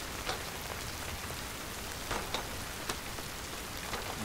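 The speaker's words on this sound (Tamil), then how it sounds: "ஐயோ மலை என்னடா இப்படி பெய்யுது?" Heavy rain pours steadily in a continuous, loud wash of hiss, with occasional sharper drop splashes standing out and no voices heard.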